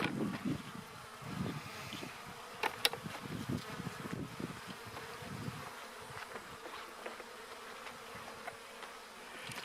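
Dense buzzing of many bees close by, a continuous swarming hum with individual insects droning past.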